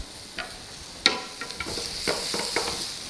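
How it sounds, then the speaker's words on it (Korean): Onions and mushrooms sautéing in a pan, heard as soft crackling sizzle broken by scattered light clicks and scrapes of stirring, close and fairly quiet, with no talking. "양파 넣고도 양파가 타지 않게 잘 좀 볶아주시면 되는데"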